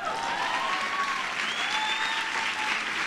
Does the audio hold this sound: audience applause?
yes